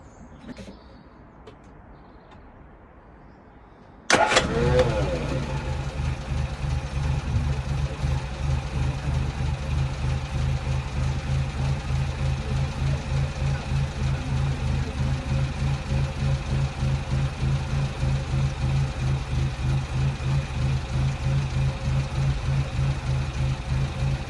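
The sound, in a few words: car engine starting without choke after spark plug change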